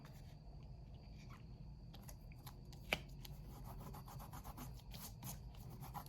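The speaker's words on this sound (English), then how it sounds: "You just rub it with your finger and it rubs right off." A finger rubs dried Stampin' Seal Plus adhesive off a card, making a faint, continuous close-up scratching and rubbing sound with one brief tap.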